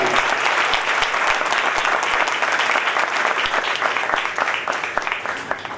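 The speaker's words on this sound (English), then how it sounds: "Let's have a huge round of applause for Dr." Lively audience applause after an economics lecture by Dr. Sanjeev Sanyal at an Indian event, a continuous crowd of clapping hands, loud and even, fading slightly toward the end.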